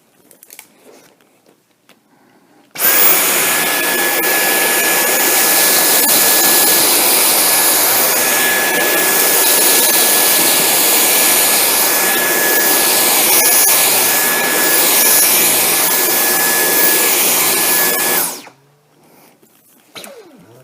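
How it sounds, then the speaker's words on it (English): A Dyson V10 cordless stick vacuum cleaner runs on max power, a loud steady whine with a constant high tone that starts abruptly, holds for about fifteen seconds alone, then cuts off. "We're going to run the V10 on max power to see how well it performs."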